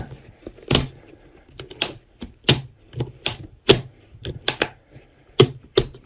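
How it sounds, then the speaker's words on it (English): A Retrospec Drifter snowshoe binding is tightened with a ratchet, giving a series of crisp, close plastic clicks in irregular bursts, about a dozen in all, with quiet gaps between. "get it tight onto your foot, and then tighten it down by ratcheting it in"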